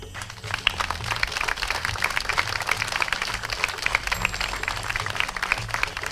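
Audience applause at the World Folk 2021 folklore championship ceremony, dense, continuous clapping from a large crowd that holds steady and fairly loud for several seconds without any speech over it.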